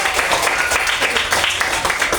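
A school class claps together in a classroom during a lesson, dense and fairly loud rapid hand clapping that continues evenly for a couple of seconds with no speech over it.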